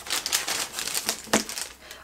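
A mystery paper bag from a geek-gadget lootbox being opened, with quick crisp crinkles and rustles in a dense, continuous burst of close paper handling.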